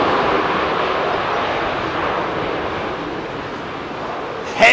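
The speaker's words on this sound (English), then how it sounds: "Heavy reverser." An Iberia Airbus A330 lands at London Heathrow on runway 09L with heavy thrust reverser, giving a loud, steady, broad roar that holds throughout, heard from a distance with some wind.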